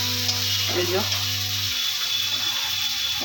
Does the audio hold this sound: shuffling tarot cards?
no